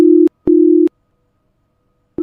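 A phone line tone after dialing a friend's home: loud, clean electronic beeps in an even on-off rhythm, three pulses with nothing else around them.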